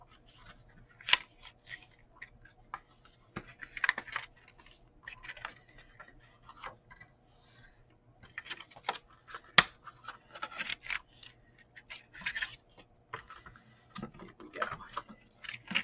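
Paper box being folded along its creases, scattered soft crinkles, taps and rubbing sounds with occasional sharper clicks, quiet and intermittent over a faint background hum.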